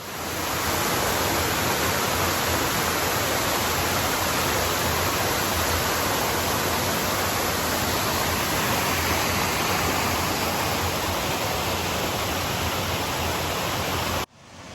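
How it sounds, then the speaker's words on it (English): A waterfall along a rugged, muddy section of the Appalachian Trail roars as a dense, steady broadband rush, loud and unbroken for the whole stretch before cutting off abruptly at the end. "Another beautiful waterfall"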